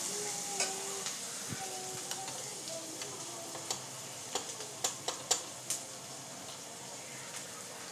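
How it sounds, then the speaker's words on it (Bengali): Chopped green chillies stirred in a frying pan for chicken chilli, with a faint, steady sizzle broken by light, irregular clicks and scrapes of a spatula. "এবার এতে দিয়ে দেবো কাঁচা লঙ্কা কুচি। এটাকেও সামান্য নেড়ে নেব।"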